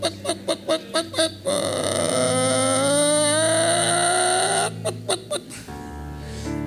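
A person vocally imitates a broody hen, opening with a row of short rhythmic clucks, then a long, drawn-out warbling croon, then more staccato clucks, loud and close with no other sounds.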